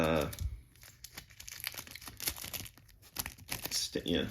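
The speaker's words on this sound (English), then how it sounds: "I'm able to just snip a little bit of the plastic with the scissors, staying away from the cards" Scissors snip through the plastic wrap on a 1989 MAXX NASCAR racing card box, giving crinkly, crackling cuts and rustles in a close, busy run, with brief speech at the start.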